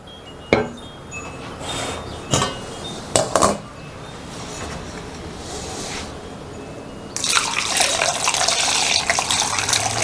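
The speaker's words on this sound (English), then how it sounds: "But since the tea is hot, I'll just run it through the strainer for now." Hot herbal tea poured through a kitchen strainer, a steady liquid splash and trickle building over several seconds after scattered clinks and knocks of utensils and cups.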